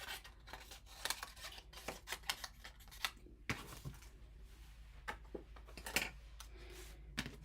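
Scissors snip through Pretty in Pink cardstock in a quick series of faint, sharp cuts and rustles, close by and irregular, with no talking.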